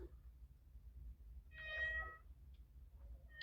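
A single cat gives one soft, mid-length meow partway through, faint and slightly distant over a low background hum, with no talking.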